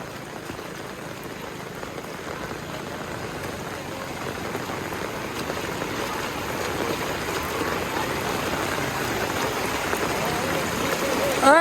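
Heavy rain pouring in Damnagar as floodwater runs into a house, a dense steady roar of falling water and rushing flow that grows slightly louder toward the end, with people talking over it.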